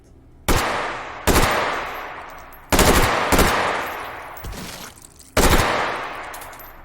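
Loud, separate gunshots in the VR shooting game Hot Dogs, Horseshoes & Hand Grenades, about six sharp cracks at irregular intervals, each trailing off in a long echoing decay, close and with no talk.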